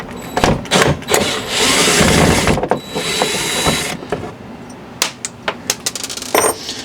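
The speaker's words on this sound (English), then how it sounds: "let me start taking this hardware off" Screws are backed out of old hanging hardware on a wall, with loud close ratcheting and grinding bursts, then a string of sharp metallic clicks and small clinks as the parts come loose. No one talks.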